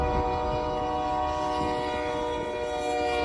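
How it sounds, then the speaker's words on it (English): A train rolls through a crossing in Ector County and crushes a car without slowing, its horn blaring in a steady sustained tone over the rumble of wheels and cars, with no voices. "the raw power of a train was on full display as it crushed a car without slowing down"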